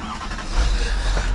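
A tow truck starting to move, its engine note rising into a low, steady rumble partway through the short stretch, close and fairly loud with no talking.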